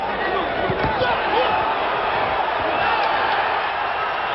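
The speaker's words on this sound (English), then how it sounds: "Crowd yells, but that was a slip." An arena crowd at a Sugar Ray Leonard versus Floyd Mayweather Sr. boxing match roars and yells, a dense continuous wall of many voices with bursts of louder shouting, heard fairly close throughout.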